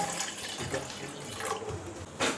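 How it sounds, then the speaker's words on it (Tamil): A cup of water poured for masala tea, a soft continuous splashing stream close by that swells briefly near the end, with no voices. "இப்போ ஒரு கப் தண்ணி ஊற்றிக்கலாம் நம்ம."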